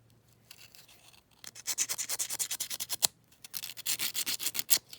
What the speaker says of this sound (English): Giving the Herbie axles a bit of a clean.